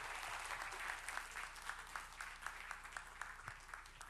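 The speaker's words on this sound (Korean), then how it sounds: "우리 다시 한번 뜨거운 박수로 우리 격려했으면 좋겠습니다" A church congregation applauds at a teachers' training event, a continuous wash of clapping heard faint and distant, steady throughout with no talking standing out.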